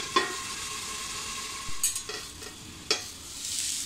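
Cauliflower and potatoes frying in a pan with a soft, steady sizzle, broken by a few sharp clinks and scrapes of a spatula; quiet overall with no voices.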